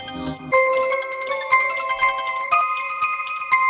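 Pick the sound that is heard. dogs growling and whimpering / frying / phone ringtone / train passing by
phone ringtone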